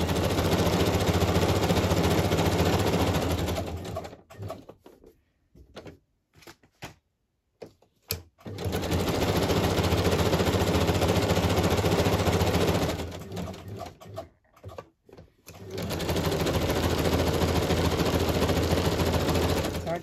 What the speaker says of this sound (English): move my sewing machine on screen now so you can see me stitch it onto the page